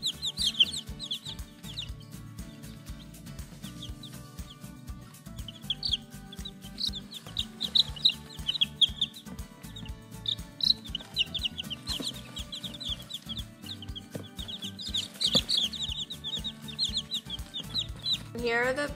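Speckled Sussex standard hens and porcelain d'Uccle bantam chickens clucking and chirping in a coop, with soft repeated calls and scratching rustles over a steady low background, occasional brief voice sounds.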